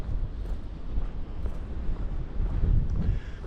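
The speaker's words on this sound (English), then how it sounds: "There's that wind." Steady low wind buffets the microphone on an older street in Tirana, a continuous rumbling gust that swells slightly toward the end, with no talking.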